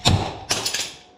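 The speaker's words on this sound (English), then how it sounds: "Once it's in there, go ahead, give her a couple whacks." A hammer lands two sharp, close whacks about half a second apart on a part from a long travel suspension kit for a Polaris RZR Pro XP side-by-side. Each blow rings out briefly with a metallic decay.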